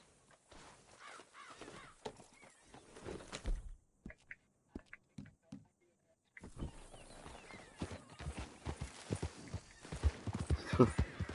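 Horse hooves clip-clop in Red Dead Redemption 2, a soft irregular clatter of steps at low volume alongside crow caws, a brief near-silent gap midway, and someone talking over parts of it.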